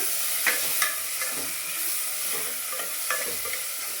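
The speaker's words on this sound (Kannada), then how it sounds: "2 ಟೊಮೆಟೊ ಕಟ್ ಮಾಡಿ ಸಣ್ಣ ಕಟ್ ಮಾಡಿ ಇಟ್ಕೊಂಡಿದ್ದೀನಿ. ಈಗ ಹಾಕ್ತಾಯಿದ್ದೀನಿ." Small chopped tomato pieces sizzle in a hot pan for a water gourd sambar, a steady loud hiss broken by several sharp spatters and stirring scrapes, with no voices.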